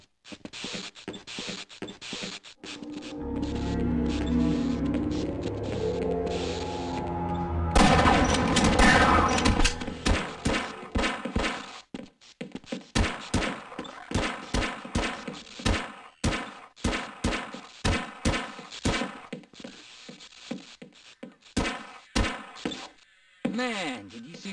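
Repeated gunfire in the video game Half-Life, with sharp shots and rapid bursts fired close by, some heavier booms between them, and dense clusters of shots later in the sequence that keep stopping and starting.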